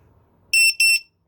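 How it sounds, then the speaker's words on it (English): A battery charger signals it has finished with a quick burst of loud, piercing electronic beeps, close by, after near silence. "So you hear those 3 beeps. That means it's done."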